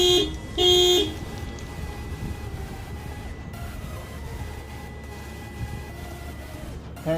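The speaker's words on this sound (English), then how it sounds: "apparently I had my alarm on this entire time" A Subaru BRZ's car alarm sounds, with two loud tonal horn-like blasts near the start followed by ongoing garage-like background noise and a brief chirp at the end.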